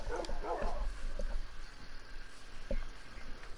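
Several dogs give short barks and yips, a cluster of bursts near the start and a couple of isolated barks later, moderately distant over a low background rumble.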